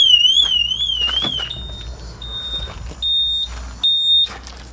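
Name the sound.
car alarm going off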